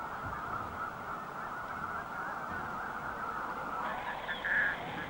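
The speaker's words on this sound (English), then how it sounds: "Great flocks of geese like these lesser snow geese." A flock of lesser snow geese migrating to the tundra in early spring honks continuously at a distance, with one louder cluster of calls toward the end.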